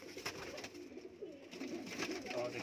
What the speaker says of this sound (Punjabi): ਆਹ ਦੇਖੋ ਗੋਲਡਨ ਕਬੂਤਰ